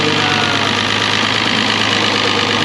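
A Farmall 706 tractor engine idles loudly and steadily nearby, with a rough, knocking mechanical rumble and a slight breathy hiss of blow-by.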